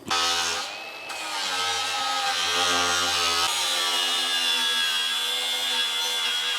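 An angle grinder cuts and shapes a metal spoiler for a work truck, giving a loud, continuous high-pitched whine with a brief dip near the start and a steady, sustained grind for the rest.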